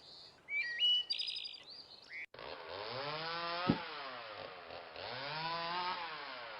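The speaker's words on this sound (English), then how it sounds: "Chainsaw." A few seconds of bird chirping give way to a loud chainsaw engine, buzzing and revving steadily with rising and falling pitch.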